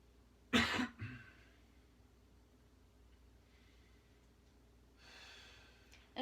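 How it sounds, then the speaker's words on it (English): A man receiving a partner Thai massage on his neck and shoulders takes deep breaths: a sharp, audible inhale near the start, quiet stillness, then a slower, softer exhale later on. "he's taking some deep breaths"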